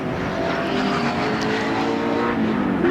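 Touring race car at the 1989 Bathurst 1000 driving past the Mount Panorama circuit, a loud, steady engine roar held throughout with a slight pitch shift as it goes by.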